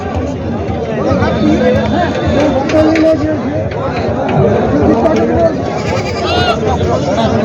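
Goats bleat repeatedly amid a busy crowd of overlapping voices at the Ardhapur goat market in Nanded, Maharashtra, with constant chatter.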